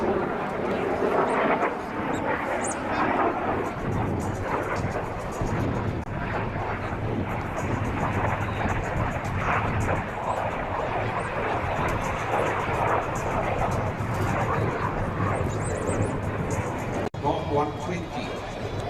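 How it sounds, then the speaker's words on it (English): Impala two-seat jet trainer aircraft in flight, a steady loud broadband engine roar with wind rushing over the microphone throughout, and someone talking over it. "That's the man who's flying this aircraft, Mike Guys."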